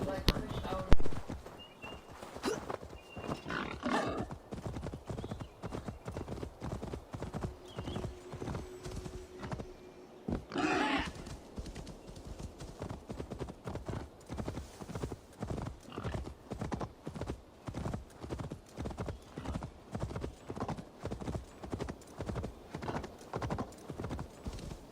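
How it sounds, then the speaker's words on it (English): Horse hooves in the Assassin's Creed Valhalla video game keep a steady, rapid clip-clop gallop for the whole stretch, close and even, with a brief rush of wind midway and a faint whinny near the start. "We'll call our magical horse."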